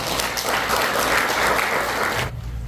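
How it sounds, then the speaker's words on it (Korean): A church congregation claps to welcome the pastor, a steady, full round of applause that fills the room and then tapers off. "우리 은혜를 기대하는 마음으로 박수로 환영하겠습니다"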